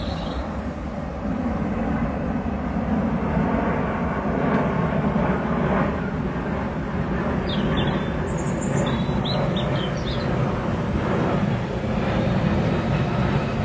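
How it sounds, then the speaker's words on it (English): An airplane on the approach route to Heathrow over London roars steadily overhead in a broad, continuous rumble, with faint birdsong chirping above it and no one talking. "I just pause for the airplane."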